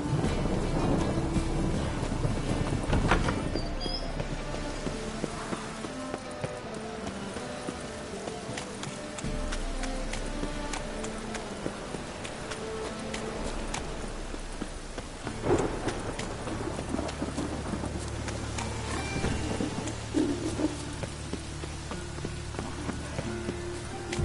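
Steady rain patters across a video game scene with a dense, continuous hiss, joined by faint hoof clops and low rumbles in the background.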